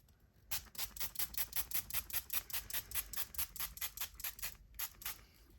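A rapid series of quick, hissing spray bursts repeats steadily as a spray bottle mists water close by onto paper for wet-on-wet watercolor painting.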